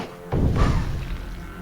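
A grenade goes off in the Templar Battleforce video game, a single sudden low thump and boom that rolls out and fades over about a second, with no talking.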